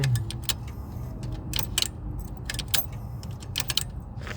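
Ignition key being turned in the steering column of a 1972 El Camino under assembly: several sharp metallic jingles and clicks from the key ring, close by, over a low background rumble.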